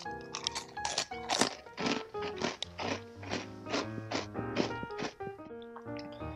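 Cheetos Crunchy snacks are crunched in a loud, close series of sharp bites and chews that repeat irregularly, with background music underneath.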